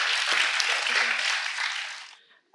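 Students at a school assembly receive applause, a crowd's steady clapping that holds strong and then tapers off quickly into near silence at the end.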